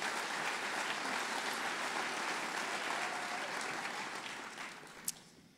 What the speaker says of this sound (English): Let's give that a round of applause in and of itself.